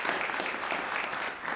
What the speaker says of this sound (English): Give Suzanne a round of applause.